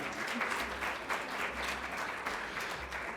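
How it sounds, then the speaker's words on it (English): A second round of applause for the Minister at a NSW Women's Week event, with steady, fairly close clapping from a crowd that runs unbroken for the whole moment. "Another round of applause for the Minister."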